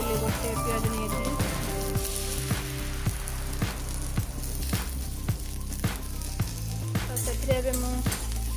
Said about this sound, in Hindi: जीरा टे देदेली, पियाज देदेली